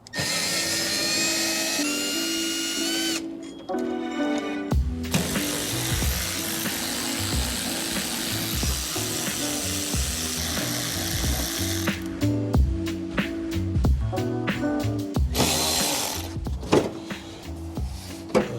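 A ratchet and power tool remove bolts from a crashed McLaren 650S Spider, with repeated whirring and clicking bursts, some long and steady and others short and choppy, loud and close in a workshop.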